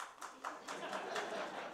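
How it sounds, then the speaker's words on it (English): Conference attendees clap briefly in a small group at an opening-day session, a soft, scattered patter of hands that stays fairly quiet and even throughout, with faint murmuring mixed in. "Those are the Canadians clapping."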